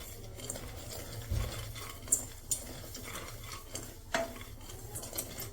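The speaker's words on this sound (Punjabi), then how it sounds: "ਇਹਨੂੰ ਆਪਾਂ ਰੋਸਟ ਕਰਦੇ ਹਾਂ ਦਲੀਆ" Broken wheat dalia roasts in a pan as a spoon stirs it, giving quiet scraping and irregular light clinks and ticks over a soft background hiss, close but faint.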